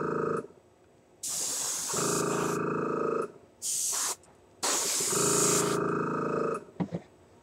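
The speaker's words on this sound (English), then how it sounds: "Spray it all in one shot." Alclad chrome paint hisses onto a model in several separate spray bursts, two long and a few short, each loud and close with quiet gaps between them.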